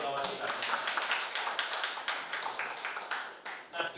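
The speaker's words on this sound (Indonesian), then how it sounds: "Tepuk tangan dulu untuk kawan kita" A university classroom gives a classmate a round of applause: dense, steady clapping from many students, fairly close and continuous, with a voice speaking over it.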